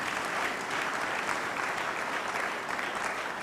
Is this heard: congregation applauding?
yes